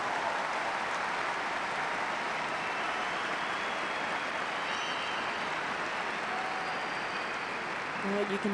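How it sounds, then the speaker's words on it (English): A tennis crowd at the 2011 WTA Finals in Istanbul claps steadily for Victoria Azarenka against Petra Kvitova, a dense, even wash of applause that carries throughout without a break. "You can hear the crowd urging Azarenka on every time she wins a point."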